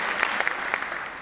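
An audience at a book fair talk applauds in a brief, even patter of many hands, moderately loud and unbroken, with no talking over it.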